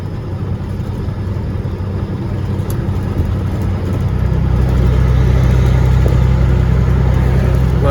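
A semi truck's stock-horsepower engine drones loud and steady from inside the cab as it pulls, a low rumble that swells and grows heavier midway under load.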